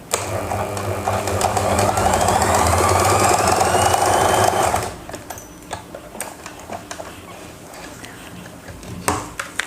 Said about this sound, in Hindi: इसकी सिलाई एक लगानी है यहाँ